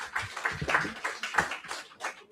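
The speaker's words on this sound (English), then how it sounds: "So I'd really like for you to give them a round of applause." Applause from an audience at an annual general meeting, a dense patter of many hands clapping at moderate level, with no voices over it.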